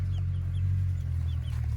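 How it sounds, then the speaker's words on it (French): Hens and chicks on a farm clucking softly, a few faint short calls over a steady low background hum, with no talk. "On va peut-être redonner à boire aux poules, aux poussins"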